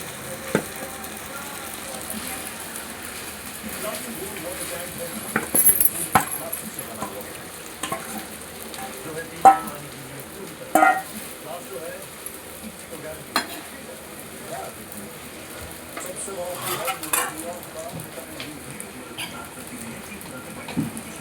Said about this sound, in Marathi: बघा इकडे शाबू भिजवून घेतलेला आहे. आता ते शाबू त्यात ओतायचं.